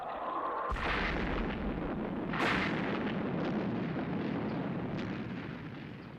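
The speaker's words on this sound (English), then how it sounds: "he's just suggested they should fire missiles" Missiles are fired in a Thunderbirds puppet TV episode: two loud, booming launch blasts, each followed by a sustained rumbling roar that fills the whole stretch, with no speech.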